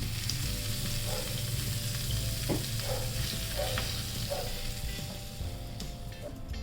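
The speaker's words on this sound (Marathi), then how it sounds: "हा तडका या चटणीला देऊया छान" Hot tadka tempering with hing sizzling and crackling over chutney, a steady frying hiss with small pops, close but moderate in level, no talking.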